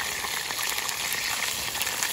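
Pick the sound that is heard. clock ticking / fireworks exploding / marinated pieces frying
marinated pieces frying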